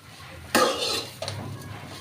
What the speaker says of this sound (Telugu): ఇప్పుడు వీటిని ఒకసారి మనం బాగా కలిపేసుకుందాం